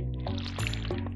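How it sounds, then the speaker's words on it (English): Watering crops with a watering can in Stardew Valley, a short splashy liquid pour with a couple of soft drip accents, close and steady over quiet game music. "I forgot to water these. Let's do that real quick."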